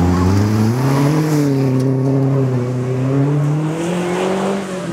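A rally car on a special stage of the 2012 STPR Rally accelerates hard away, its loud engine note climbing steadily close by before easing off slightly at the end.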